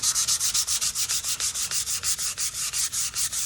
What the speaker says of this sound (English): I'm using just a fine grit sandpaper